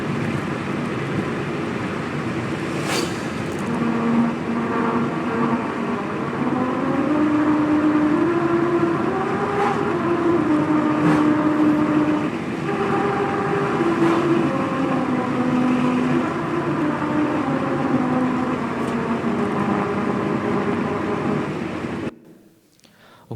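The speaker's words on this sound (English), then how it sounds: "if you drive on the road, and actually vibration playing sound or music" A car drives over Japan's grooved Melody Road, the tyres humming a clear stepped tune above a steady road rumble for about twenty seconds before fading.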